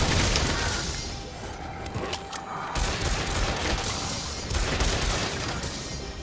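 Rapid bursts of booming explosions and gunfire crackle continuously in Monster Hunter World: Iceborne, dense and loud, like a chaotic battle with no voices.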